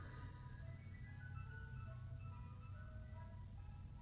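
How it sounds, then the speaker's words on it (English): Ice cream truck passing outside an open garage, its tinkly chime melody playing faint and distant over a steady low engine rumble. "the ice cream truck just goes by while I'm doing this podcast"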